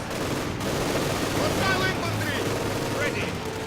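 Rapid gunfire and explosions from a Company of Heroes 2 battle between Soviet and German forces, a steady dense clatter of shots with bursts of machine-gun fire throughout.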